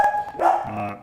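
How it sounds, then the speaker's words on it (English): A hungry pet dog barks a couple of times nearby, giving short, sharp woofs that are loud and clear over a quiet background. "You can hear my dog barking again"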